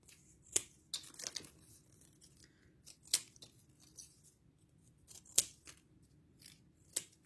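Scissors snip through pieces of a craft base, a series of sharp, close cuts spaced irregularly, with soft paper rustling between them in a quiet room.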